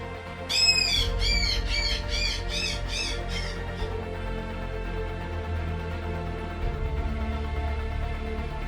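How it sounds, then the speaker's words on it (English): Seabirds on an island give a quick run of about six harsh, rising squawks early on, then fall quiet over a low, steady background rumble. "Today, the birds are protected and cherished as a symbol of the island's wild spirit."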